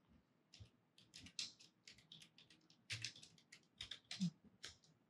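Computer keyboard typing as a command is entered, quick irregular bursts of key clicks close by, with brief pauses between groups of keystrokes.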